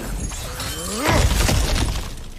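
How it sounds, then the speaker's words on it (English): Objects shattering and breaking apart in the action game God of War Ragnarok, a loud crash of splintering debris after a brief faint in-game voice and music, alone with no talk over it. "back to smashing through things for fun and profit"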